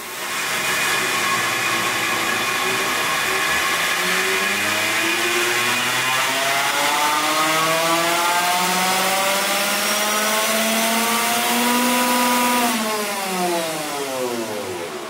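A Tesla Model 3 runs on a dynamometer for a battery state-of-charge test, its electric motor giving a loud, steady whine that sweeps upward in pitch with rising speed, plus tyre and roller roar, then drops near the end.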